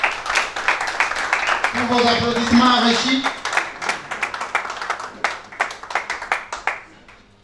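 An audience at a launch event in Nairobi breaks into sustained clapping that fills the room, with a voice speaking over the applause.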